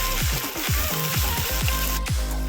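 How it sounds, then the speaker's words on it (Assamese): Turmeric and Kashmiri red chili powder fry in hot oil for a meat dish at an outdoor family picnic, a constant loud sizzle broken by about eight regular knocking strokes of a spoon against the pan. "এতিয়া মই ইয়াতে হালধি দিছোঁ আৰু কাশ্মীৰী ৰেড চিলি পাউডাৰ দিছোঁ কালাৰটোৰ কাৰণে আৰু এইখিনি এতিয়া মই ভালকৈ ভাজি ল'ম"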